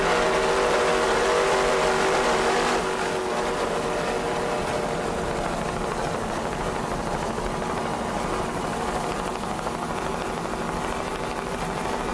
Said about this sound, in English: Ramada Offshore engines sound excellent.